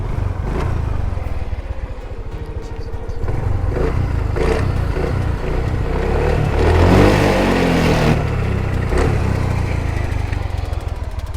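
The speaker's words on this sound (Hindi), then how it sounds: "सेल्फ मोटर का साउंड है, वो थोड़ा सा रफ है।" A 7-year-old TVS Jupiter BS3 scooter with 40,000 km is started on its self-starter motor, which cranks roughly before the engine catches and settles into a loud, close, rattly idle.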